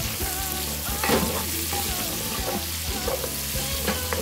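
Chopped onion and garlic fry in a pan with a steady, fairly quiet sizzle and occasional stirring clatter, and no voices.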